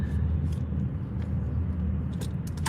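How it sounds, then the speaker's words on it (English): Car traffic heard from inside a vehicle: a steady low engine and road rumble that continues throughout at moderate level, with faint clicks and brief higher noises over it. "This traffic is ridiculous."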